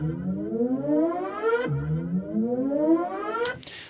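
A synthesizer riser with a long attack envelope on the filter cutoff, two sweeping tones gliding upward one after another, the second ending in a brief noisy burst, no voices.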